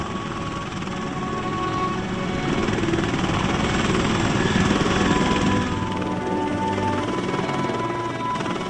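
A firefighting helicopter drones steadily overhead, its rotor chop and engine roar filling the air, swelling slightly louder midway before settling.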